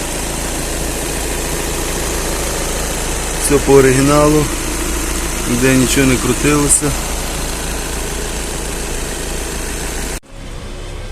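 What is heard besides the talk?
Volkswagen Touran 2.0 diesel engine idling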